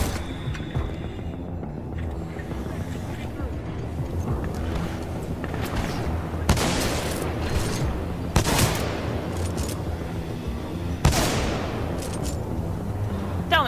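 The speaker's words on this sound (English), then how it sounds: "I throw grenades at you!" Grenades burst in Titanfall 2 amid steady battle noise, with several sharp explosions standing out at intervals over continuous rumbling gunfire and movement.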